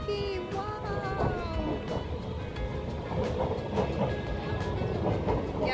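A train rolls past near a shopping mall, a steady rumble with squealing wheel tones and clatter, fairly close, as people talk over it.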